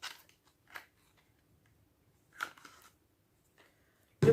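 Cosmetic packaging containing an SPF 30 product with hyaluronic acid and collagen being opened: a few short, separate crinkling and snipping sounds spread over a few seconds, with a louder thud at the very end.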